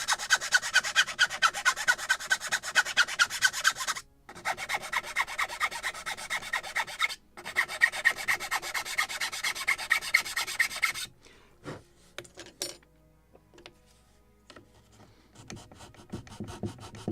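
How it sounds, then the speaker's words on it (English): A file chamfers the edge of a wooden plank on a model ship of the 1776 gunboat Philadelphia, giving rapid rhythmic rasping strokes in bursts with brief pauses, then a quieter stretch of sparse scratches and taps. "I can create chamfer the edge with file"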